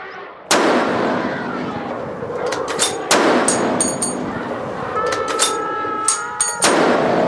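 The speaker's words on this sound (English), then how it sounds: "Both elephant hunters target the 2 big elephants and start shooting." Gunfire from elephant hunters in an audio story: several loud, sharp bangs spread unevenly over the span, each with a booming decay, some in quick pairs, and no talking.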